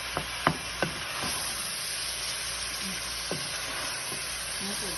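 Onions and tomatoes for a beef stew sizzle in a pot with a steady, fairly quiet frying hiss, with a few soft clicks and pops of stirring near the start.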